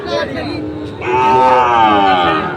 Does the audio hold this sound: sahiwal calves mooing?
yes